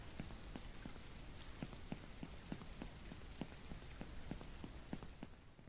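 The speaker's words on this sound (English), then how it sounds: "Still raining." Rain falls steadily in Ranch Simulator, a soft, even wash of drops with faint regular ticks hitting a surface, with no voices.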